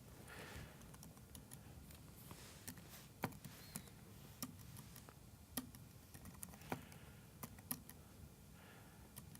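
Quiet, steady typing of numbers on a computer keyboard, a run of light key clicks with occasional sharper taps, close by and alone.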